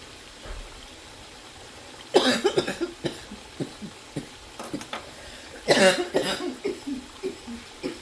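Two bursts of harsh coughing a few seconds apart, each followed by smaller throat-clearing hacks and rough breaths, close and fairly loud.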